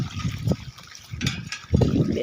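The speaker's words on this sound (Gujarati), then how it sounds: "2 છોડને પાઈ દઈ." Water poured onto two plants in a farm field, uneven bursts of splashing and gushing close by, coming in a few short pulses.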